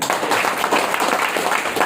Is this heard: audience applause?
yes